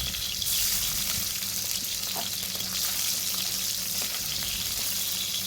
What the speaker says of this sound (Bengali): এবার দেবো রসুন